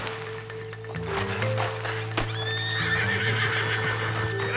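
A horse in Red Dead Redemption 2 whinnies loudly and close, its neigh rising over a steady clip-clop of hooves, with a low droning game soundscape underneath throughout.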